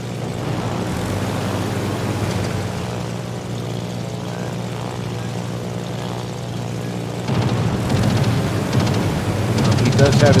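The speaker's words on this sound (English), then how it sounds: "He does have his own fighter plane." Fighter plane engine in World of Warships, a steady droning propeller hum that grows louder and rougher toward the end, heard alone without talk.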